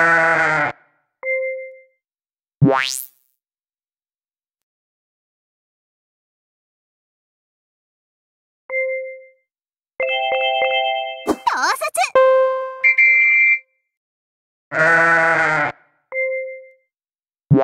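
Sheep from the Shephy card game bleating in several separate loud calls, spread out between stretches of silence and mixed with bright chime and jingle effects.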